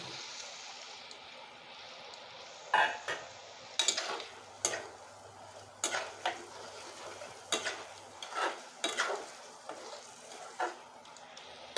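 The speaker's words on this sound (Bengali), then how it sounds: "এখন আমি এ ভেজে রাখা আলু দিয়ে দিচ্ছি" Fried potatoes go into a pan of cooked-down spiced masala for a soybean-chunk and potato curry, giving a steady low sizzle broken by about a dozen sharp scraping and clinking stirs. No one speaks.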